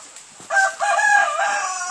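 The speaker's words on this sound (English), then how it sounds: "there's a lot of really cool chickens in here" Chickens in a farm twig aviary crow and cluck at close range during feeding, a brief quiet lead-in giving way to a steady, overlapping chorus of calls.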